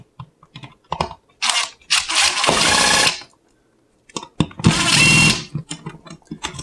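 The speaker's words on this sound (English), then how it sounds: "we're going to go ahead and loosen the 2 screws right up here" Screws on a smoke detector mounting ring are loosened, heard as two close, loud whirring bursts of one to two seconds each, surrounded by scattered clicks and handling knocks.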